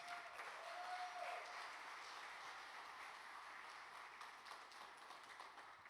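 Sustained applause from a sizable church congregation, a steady wash of clapping that holds evenly for several seconds without fading out.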